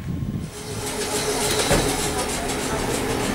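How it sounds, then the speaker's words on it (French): A Kyoto tram passes nearby with a steady rumble and rail noise throughout, heard beneath a low voice. "C'est le tramway."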